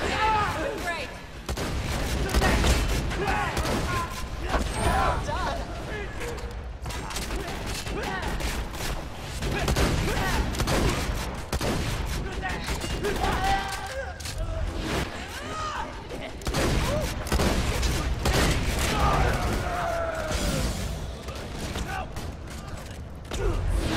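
Repeated bursts of gunfire and mechanical clanks from the video game Borderlands 2 fill a busy firefight, loud and dense throughout, with voices talking over the action.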